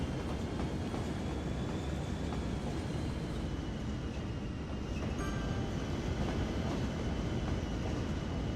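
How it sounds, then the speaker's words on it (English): Cargo trains roll into a cargo train depot in the city-building game Cities Skylines, giving a steady, dense rumble of rail cars with a faint rhythmic clatter, continuous and even throughout, with no voices. "So we finally have cargo trains arriving at the cargo train depot."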